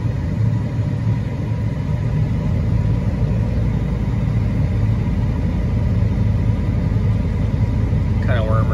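A 1993 Ford F250 with a 7.3 IDI diesel engine idling, a steady low rumbling clatter heard close and continuous, with a brief voice near the end.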